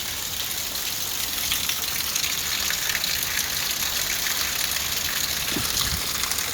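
Heavy rain pours steadily in the early hours of the night, a dense, even hiss of drops drumming on surfaces without a break, with a couple of faint low knocks near the end.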